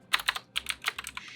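Quick bursts of keystrokes on a computer keyboard, about eight crisp clicks in a steady typing rhythm, close and clear with no speech.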